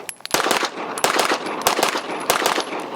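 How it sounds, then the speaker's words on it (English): A Staccato 2011 pistol fitted with a Parker Mountain Machine compensator firing at a range: about five loud, sharp shots in an even rhythm, roughly two-thirds of a second apart, with no talking. "first shots with the Parker Mountain Machine comp for the Staccato 2011s"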